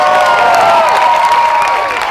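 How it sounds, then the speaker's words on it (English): An audience at a public speaking event greets performers with cheering and applause, a steady dense wash of crowd noise that holds throughout and fades slightly at the end. "feel free to give them a huge round of applause because they can handle it"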